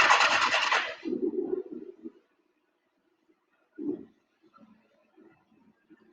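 Sandpaper rasps against a small wooden roof piece from a Midwest Products basic truss-roof two-bedroom model kit: a short burst of hissy rubbing, then a couple of softer scrapes, close and fairly quiet with pauses between.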